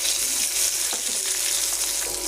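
Green chillies, onion and tomato fry in hot oil in a home kitchen, giving a continuous bright sizzle with a few soft stirring knocks, and no talking.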